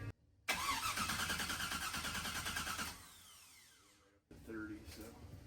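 A car engine fitted with a new 94mm turbo cranks and fires up, then revs loudly for a couple of seconds before dropping back to a rough idle, with people talking nearby.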